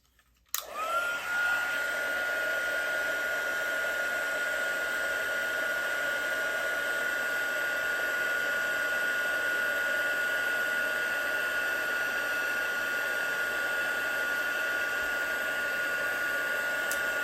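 A heat embossing tool melts embossing powder on a stamped card, producing a steady, fairly loud blowing whir that starts abruptly and runs evenly with no talking.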